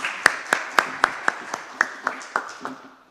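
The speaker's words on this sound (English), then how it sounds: "Sandy, I think she deserves a round of applause." A small audience at a talk on refugees and immigration claps in a sparse, even rhythm of roughly a dozen distinct claps, close by, that gradually taper off.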